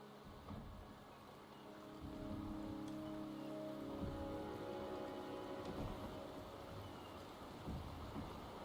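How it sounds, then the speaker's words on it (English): Steady rain falls in a video game setting, a soft continuous hiss with light patter and a low rumble beneath, faint and even throughout with no voices. "The rain is subsiding, and the sky will soon clear."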